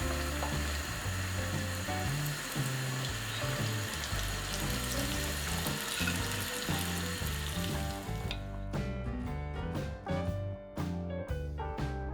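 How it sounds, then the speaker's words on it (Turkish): Steady, dense sizzling of small meatballs frying in oil fills the whole stretch, with brief clinks and crackles near the end. "Ve şimdi bir miktar sıvı yağda kızartacağız."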